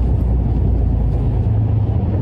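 A real truck (LKW) accelerates, heard from inside the cab as a loud, steady low engine rumble that continues throughout without pause.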